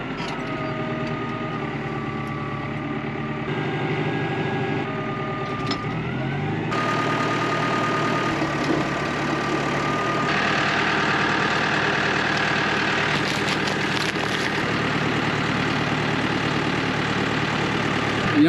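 A farm tractor engine runs steadily while spreading fertiliser with hydraulic spinners and rams, a continuous mid-pitched drone and hum that rises slightly in load partway through, with no talk.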